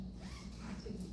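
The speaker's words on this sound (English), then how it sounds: "these zip from the bottom, so the little zipper doesn't hurt the baby's chin." A small zipper on a baby outfit being zipped from the bottom: one quick, close zip, faint and raspy, lasting about a second.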